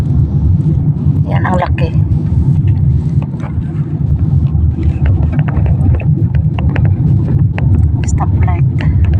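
Steady low rumble of idling traffic at a city stoplight in front of a mosque, a continuous engine drone with a voice talking briefly over it.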